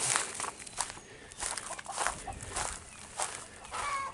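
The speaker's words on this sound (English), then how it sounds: "Chickens out in the road." Chickens cluck and murmur softly nearby against a hissy outdoor background, with a few scuffs and rustles, no one speaking.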